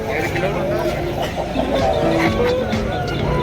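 Native chickens cluck at a busy Sunday pet market in Erragadda, their short clucks mixed into loud nearby talk and crowd noise.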